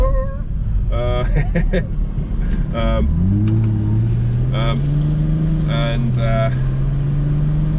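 A passing tractor's engine rumbles steadily up close, rising in pitch as it gets going, with short harmonic tones chirping over it.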